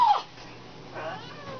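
A kitten gives a short, high meow close by, followed after a brief pause by a fainter, drawn-out mewing cry.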